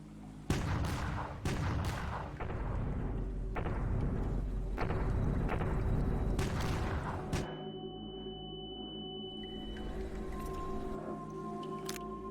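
Gunfire and explosive blasts from the sci-fi shooter game E.Y.E. Divine Cybermancy, a burst of loud sharp shots and booming impacts over several seconds, then a lower steady hum with lingering tones.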